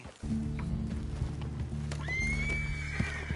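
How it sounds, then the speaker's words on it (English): A horse in Red Dead Redemption 2 lets out a loud, drawn-out whinny close by, rising into a long high squeal over a steady low ambient hum, with a faint hoof thud or two. "Got a good horse there."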